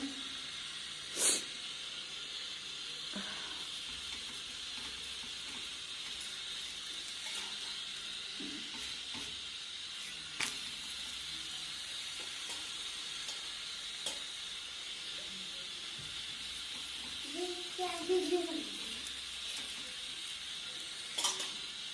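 Oil-laden paratha frying on a hot pan, giving a steady, soft sizzle and hiss with a few brief clicks and stirring touches, no voices.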